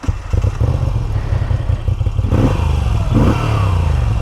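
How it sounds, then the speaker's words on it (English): A Moto Guzzi motorcycle engine fires up close and loud, then runs with a rapid, lumpy throb and clatter that briefly swells as it revs. "That is a classic motorcycle sound if I've ever heard it."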